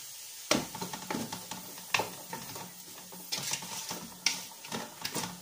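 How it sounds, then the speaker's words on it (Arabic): Spiced rice and chicken sautéing in a pot, a steady sizzle with a spoon stirring and knocking against the metal several times, close and moderately loud. "غادي نشحرو مزيان"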